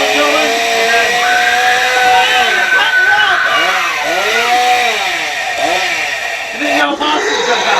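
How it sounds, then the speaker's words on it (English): Chainsaw sound effect blaring through a haunted attraction's sound system, a loud continuous snarling engine with revving swells, close and steady throughout, with some voice mixed in. "Chainsaw"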